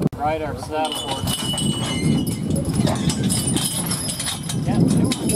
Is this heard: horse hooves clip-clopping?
yes